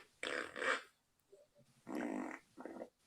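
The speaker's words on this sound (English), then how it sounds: "It's a fart sound effect." Fart sound effect played in a few loud, buzzy bursts separated by short pauses, with a faint squeak between them.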